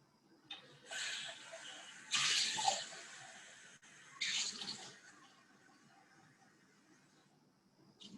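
Tap water runs into a sink while watercolor painting water is rinsed out, coming in several uneven bursts of splashing flow separated by quieter stretches, with no voices.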